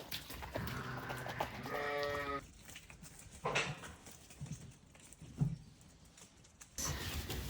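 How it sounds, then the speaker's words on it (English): Sheep on a farm yard, ewes and lambs penned together: a clear wavering bleat near the start, then quieter shuffling and a few soft thumps against faint background noise, with no talking. "So the ewes have had their time on the yard now."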